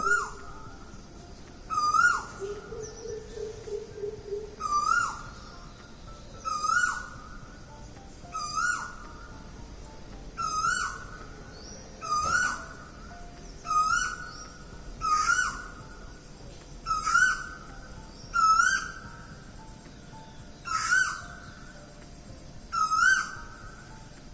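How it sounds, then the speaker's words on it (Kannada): A koel repeats its rising, whistled call at a steady pace, roughly every second or two, amid birds chirping outdoors in the early morning. The calls are clear and moderately close against a quiet background. "ಆ ಪಕ್ಷಿಗಳ ಚಿಲಿಪಿಲಿ ಆಗ್ಬೋದು ಆ ಕೋಗಿಲಿ ಕೂಗ್ತಾ ಇರೋದು ಒಂದು ಸರಿ ನೀವು ಸೌಂಡ್ ಕೇಳಿಸ್ಕೊಳ್ಳಿ"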